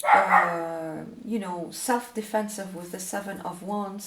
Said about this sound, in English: I'm sorry about my dog, if you can hear her barking.